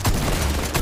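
Gunfire from Fortnite being fired through walls, a dense rapid burst of close, loud shots running continuously for under a second with no talk.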